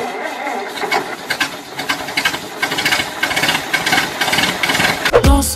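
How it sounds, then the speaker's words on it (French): Car engine noise behind a music video track, a rough, knocking mechanical rumble with uneven pulses layered under music, ending in a brief low thump. "le bruit de la voiture qu'on entend en arrière-plan"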